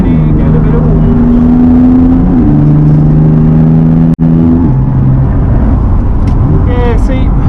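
A BMW M4 engine at Snetterton circuit idling and revving in steady tones that step up and down, loud and close, while people talk over it.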